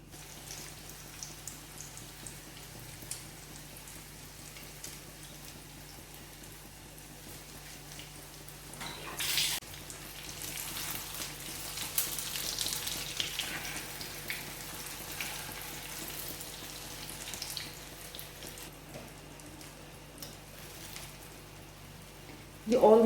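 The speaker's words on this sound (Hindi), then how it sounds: "अब यहाँ पे ऑयल गरम हो रहा है और मैं अंडे के बैटर में कबाबों को डालूंगी और इन्हें फ्राई कर लूंगी" Kebabs coated in egg batter fry in hot oil, a steady soft sizzle and crackle that grows busier partway through, heard close and fairly quiet with a faint hum beneath and no talking.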